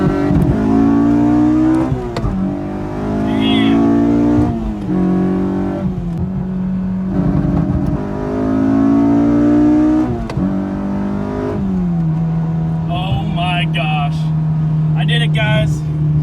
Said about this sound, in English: I'm pretty much gonna give it gas, hit the limiter, flick the switch, and then we should take off